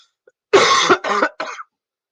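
Three harsh coughs in quick succession, close and loud, the first longest and the last shortest, then silence.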